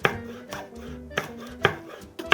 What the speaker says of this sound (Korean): 홍고추도 같은 크기로 썰어주도록 하겠습니다